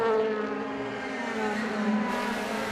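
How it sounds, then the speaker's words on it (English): Onboard BMW DTM race car engine at Hockenheim, a loud sustained high-revving drone that holds steady near full throttle, with a brief shift in tone late in the clip. "Great to hear that engine being worked in that BMW"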